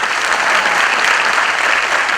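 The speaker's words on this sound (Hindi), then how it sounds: "इसके लिए मैं चाहूँगा कि उनके लिए एक बार जोरदार तालियां हो जाए।" Loud, dense audience applause at a Bollywood music launch event, a sustained even roar of many hands clapping close by with no speech over it.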